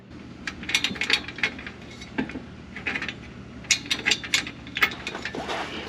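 A ratchet wrench tightening bolts during an SUV upgrade install, rapid bursts of metallic clicking in repeated runs with short pauses between, close and clear, no talk.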